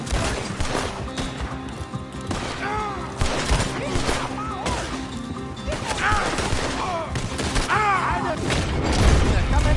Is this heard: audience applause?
no